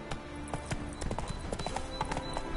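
Roach, the horse in The Witcher III: Wild Hunt, galloping with a quick, steady rhythm of hoof clip-clops, close and continuous across the whole stretch.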